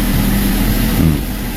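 A car engine idles steadily right after starting, a loud, close, low rumbling drone with an even texture and no talk.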